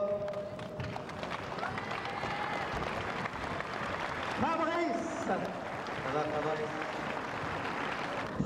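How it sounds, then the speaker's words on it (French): Boxing gala crowd in a hall applauding and cheering for a boxer's entrance, continuous clapping and crowd noise under an announcer speaking over a loudspeaker. "on applaudit d'abord"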